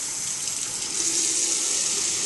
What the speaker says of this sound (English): And you're going to add the water to the pan.